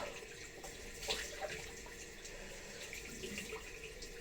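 Cold water runs steadily from a tap into a sink for rinsing after a shave, a constant soft splashing with a few small clinks, no talking.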